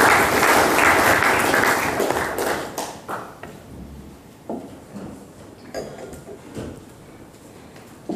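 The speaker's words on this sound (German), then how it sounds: "Applaus" Applause from the crowd at an AfD campaign rally in Waldeck-Frankenberg, a full burst of clapping that thins out over several seconds into sparse, irregular individual claps.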